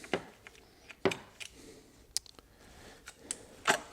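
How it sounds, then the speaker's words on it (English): Ratchet with a 10mm socket loosening an ignition coil retaining nut on a Honda Accord, a series of sharp, close clicks and ticks spaced irregularly, with no talking. "I'm going to take a ratchet with a 10mm socket, loosen the retaining nut here."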